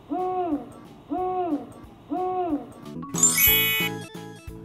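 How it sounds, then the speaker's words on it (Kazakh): An owl hoots three times in an even rhythm, each call a clear wavering tone, followed by a bright chiming jingle with tinkling notes. "Үкі,"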